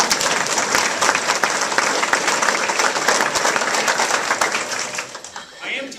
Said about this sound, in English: Why don't we all give Kelly a round of applause for her.